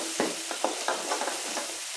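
A masala of red chilli powder, turmeric and garam masala with a bay leaf sautés in a pan, a brief close sizzle punctuated by several quick stirring scrapes at an uneven rhythm, with no one speaking.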